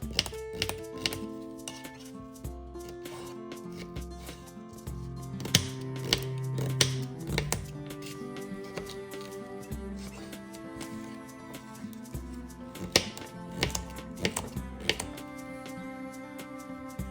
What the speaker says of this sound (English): that's how you medium dice a carrot. Repeat the same for the remaining carrot halves